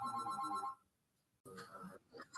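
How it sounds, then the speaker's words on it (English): A telephone rings in a math lesson on polar derivatives, a bright electronic ring that sounds for under a second, falls silent, then gives way to faint talk and noise. "I have to answer this phone"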